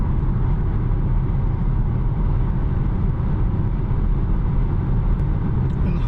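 Steady broadband road and wind roar inside a Volvo XC40 Electric cabin cruising at 100 km/h on a highway, a continuous low rumble at constant loudness with no talking.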